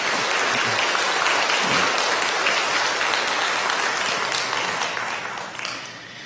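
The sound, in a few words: church congregation's welcoming applause for new members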